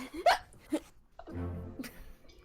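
Hiccups from a person playing Return of the Obra Dinn, a couple of sharp, abrupt vocal catches close up, followed by a low murmur of background sound.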